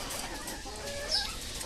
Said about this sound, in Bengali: আর এই যে মুরগিটা আমরা বলি ভুটকি, ঠিক আছে, কারণ ও একটু হেলদি বেশ